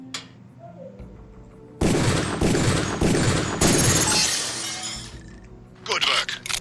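Gunfire in the Deus Ex video game as targets are shot on a training course, a loud sustained burst of shots and shattering impacts lasting several seconds, followed by a shorter burst, with speech around it.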